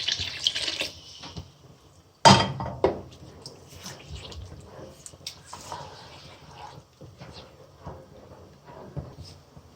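Reserved water is poured into a pan of frying chickpeas for Lahori cholay, giving a sudden loud hiss and sizzle that settles into softer bubbling and clinking.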